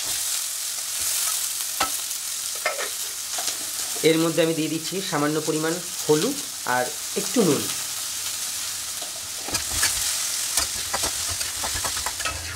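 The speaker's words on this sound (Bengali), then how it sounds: "এবার আমি আলু কেটে রেখেছিলাম, সেগুলোকে ভেজে নেব।" Cut potatoes fry in hot oil in a pan, giving a steady, bright sizzle throughout, with someone talking partway through.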